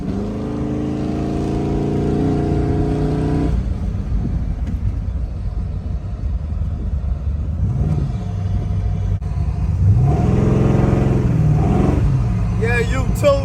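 A GM convertible with a newly replaced steering box drives along a road. Its engine rumbles steadily and loudly up close, with the pitch shifting as it speeds up and eases off.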